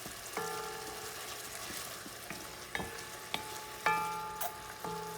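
Vienna sausage pieces sizzle steadily in a pan, a soft crackling bed broken by several sharp metallic clinks and scrapes of a utensil against the pan.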